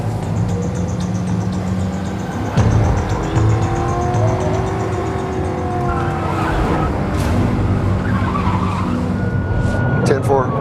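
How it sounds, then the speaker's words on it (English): A Dodge Charger police car on a high-speed chase in Alaska roars along with a steady engine drone and tire noise. A sharp jolt cuts in partway through, a siren-like tone runs faintly above, and a voice talks over the drive. "Cook floors the Charger and moves into lead position."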